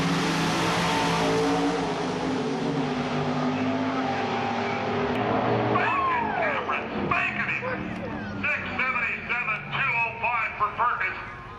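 Drag racing cars roar at the start of a semifinal race, a loud sustained engine blast that fades as they pull away, followed by a commentator talking over the receding noise.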